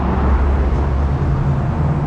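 A Porsche passing on a Toronto city street, a low engine and tyre rumble rising and fading over about two seconds, close and fairly loud amid general traffic.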